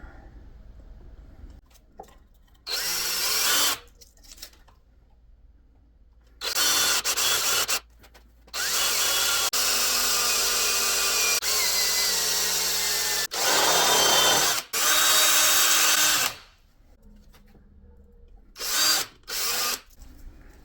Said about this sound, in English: Just gonna drill a hole in here.